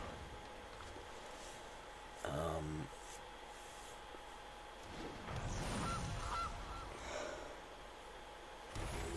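A Gilded Goose card in MTG Arena gives a short honk, briefly and fairly faintly, followed by other game effects, with no voice over it.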